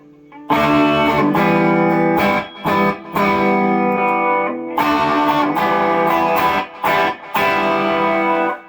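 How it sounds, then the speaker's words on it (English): Electric guitar through a Tube Screamer into a power boost pedal, with a driven, overdriven tone, plays loud sustained chords in bursts with short gaps, thick and slightly compressed. "tube screamer into the power boost, and then what a difference"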